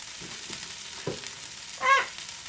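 Chicken frying in a pan gives a steady, hissing sizzle throughout, with a few soft clatters of stirring and a brief brighter scrape near the end.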